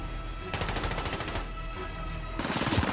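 Automatic gunfire in a Call of Duty match: two sustained bursts of rapid shots, loud and dense, separated by a short lull.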